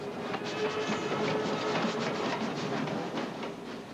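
A steam locomotive train rumbles past in a steam parade with a steady mechanical roar and rhythmic clatter, fairly close, holding level throughout.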